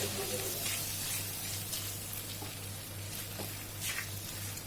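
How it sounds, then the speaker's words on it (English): Chopped tomatoes sautéing in a pan over a medium-low flame, a soft, steady sizzle with faint crackles and a low hum underneath, continuous and fairly quiet. "We're going to saute the tomatoes until they turn soft."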